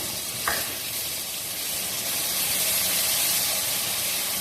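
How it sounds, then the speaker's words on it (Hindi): Tomato puree made from two tomatoes hits frying spices in a pan and gets stirred, giving a loud, continuous close sizzle and hiss that grows slightly stronger midway, with a brief scrape early on and no talking. "अब इसके अंदर मैं डालूंगी ये जो हमने टमाटर प्यूरी बनाई थी, 2 टमाटरों की प्यूरी, ये डालेंगे, मिक्स करेंगे इसको भी अच्छा सा"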